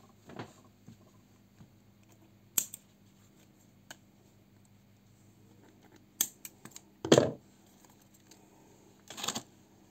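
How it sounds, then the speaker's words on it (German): A few crisp snips of scissors cutting paper, spaced irregularly with quiet pauses between, close by and fairly loud. "Wir können ja mal gerade hier das Papier mal oben wegschneiden."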